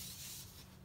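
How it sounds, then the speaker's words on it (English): One short, close hiss of conditioner sprayed from a can onto the rubber slide seals of a Rockwood Mini Lite 2205S travel trailer, under a second long. "You want to spray some of this conditioner on here."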